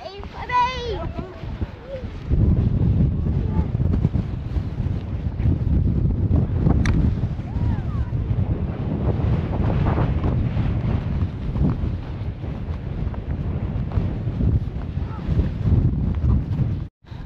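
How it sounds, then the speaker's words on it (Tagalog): Strong wind roars steadily against the microphone at Abraham Lake in winter, a constant low rumble throughout, with brief voices faintly audible at the start. "Lakas ng hangin"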